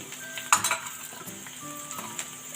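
Turmeric and coriander powder fry in a pan while a spoon stirs them, with one sharp scrape and clatter near the start, then a faint steady sizzle and light scraping up close.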